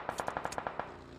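Rapid automatic gunfire in a competitive mobile shooter match: a tight burst of about ten evenly spaced shots over under a second, fairly faint against steady background noise.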